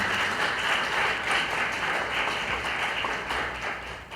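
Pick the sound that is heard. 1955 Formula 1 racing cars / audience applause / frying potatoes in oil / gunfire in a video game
audience applause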